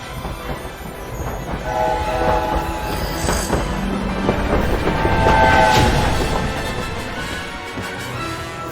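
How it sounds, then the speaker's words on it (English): A train in the video game Hogwarts Legacy rolls past, a loud, sustained rumble with rhythmic wheel clatter, tonal horn blasts and brief squeals swelling in the middle and then easing off. "And there's the train."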